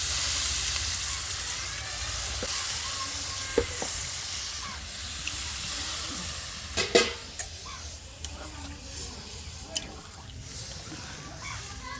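Hot water poured into a pan of already browned meat for a thin meat curry with roasted spices and bottle gourd leaf paste, giving a steady close sizzle and hiss with a few sharp clinks and spikes.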